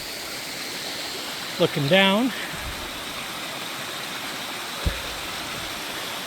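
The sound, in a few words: waterfall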